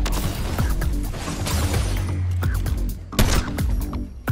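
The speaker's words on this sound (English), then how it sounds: "As he is falling down, end him with your deadly sniper." Sniper rifle fire in Fortnite, sharp loud cracks and impacts cutting through a busy, cluttered mix of game effects and whooshes, with a couple of distinct hits near the end.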